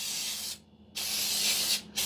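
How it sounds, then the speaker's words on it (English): Cooking spray hisses from a can onto a pan before chicken wings go on it, two loud steady bursts separated by a brief pause, with a third short burst starting at the end. "Some pan spray, okay?"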